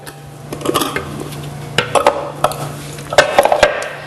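Cherry pie filling dumped from a blender or processor jar into a large bowl, with close clinks and knocks of the container against the bowl over a low hum, the sharpest taps coming near the end.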